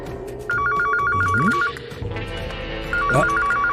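An electronic phone ringtone trills in two bursts of rapid repeated tones, separated by a short gap, over background music and other sounds.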